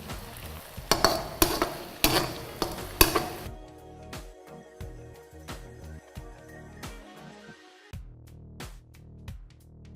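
Mushrooms sautéing with salt in a pan for a mushroom gravy, a steady close sizzle with repeated scraping stirs and soft utensil knocks against the pan, louder in the first few seconds and then lighter. No one speaks.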